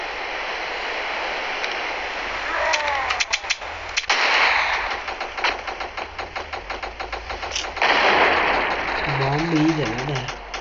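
Gunfire and explosions in the video game Vegas Crime City: bursts of rapid automatic shots and single cracks crackle through the clip over a steady engine-like drone, with a louder blast near the middle and a player talking throughout.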